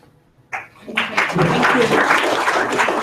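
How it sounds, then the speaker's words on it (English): An audience applauds the presenters at a team update, the clapping building up after a short pause and then holding steady, with some voices mixed in beneath it. "big hand of applause again for everybody who presented"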